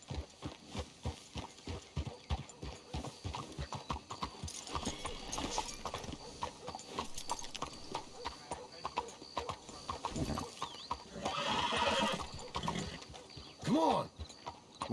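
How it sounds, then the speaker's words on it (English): Hooves clip-clop steadily at a walking pace amid soft creaks and rattles, with a brief horse snort near the end; quiet and fairly close, from Red Dead Redemption 2. "Let's hitch the horses up ahead."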